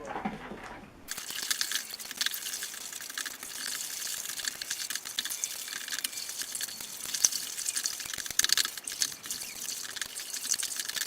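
Wine runs through a siphon tube into a spare glass demijohn during home winemaking, a steady close trickling and bubbling wash with faint drips, continuing without pause and with no voices.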